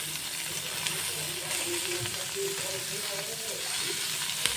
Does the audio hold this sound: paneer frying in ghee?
yes